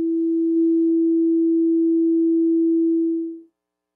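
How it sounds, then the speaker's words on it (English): A single steady pure sine tone, played as a physics demonstration, holds one unwavering pitch at constant loudness for about three and a half seconds before fading out, with no other sound. "it's just a very pure sinusoidal note"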